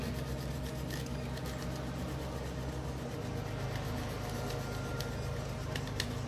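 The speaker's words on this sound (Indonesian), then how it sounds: "Kita gosok dia biar keluar jinnya." Steady rubbing of wrapping material by hand while wrapping a fish gift, a soft, continuous scratchy friction with a few sharper crinkles, close and fairly quiet.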